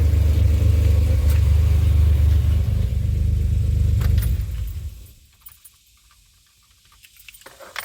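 A supercharged 2007 Pontiac Grand Prix engine idles with a steady low rumble up close, then is switched off, the drone dying away into near silence with a few small clicks and rattles.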